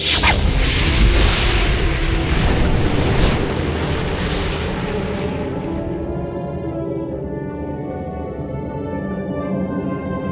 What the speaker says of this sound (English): the evil fairy Maleficent appeared in a flash of green fire